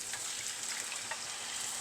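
Chicken in marinade sizzles and fries in a pan for a Christmas chicken biryani, with a steady crackling hiss and light scraping as it is stirred, close up and without voices.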